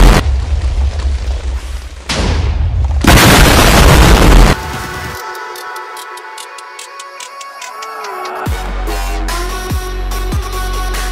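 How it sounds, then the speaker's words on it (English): An explosion goes off in a Half-Life-based sandbox video game, with loud bursts of booming noise followed by ticking clicks and game sounds. "Cause I want to see it blow up."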